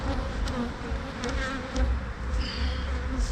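A dense, close hum of many bees buzzing continuously, with a few individual insects droning past nearer the microphone.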